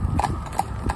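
Hooves of an Irish Draught sports horse clop on a hard surface in a quick, close rhythm of several strikes, with a voice faintly urging the horse on.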